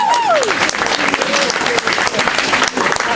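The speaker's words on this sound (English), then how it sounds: "Start clapping." Poetry slam audience clapping and cheering loudly in a small room, a dense burst of applause with whoops and a voice calling out over it.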